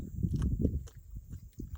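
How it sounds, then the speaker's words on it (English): Gum chewing up close outdoors in a rocky desert gorge, soft wet irregular smacks and clicks repeating steadily, faint and intimate with no talking. "I really wish you weren't chewing gum."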